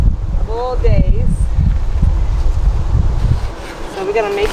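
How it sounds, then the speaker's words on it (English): Gusty outdoor wind buffets the microphone with a low, rumbling roar while a person talks over it. "Windy today, of all days"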